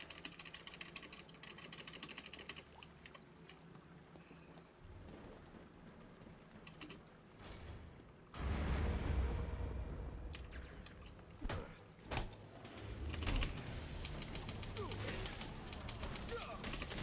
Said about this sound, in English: If you like loud keyboards, then this spacebar mashing is for you.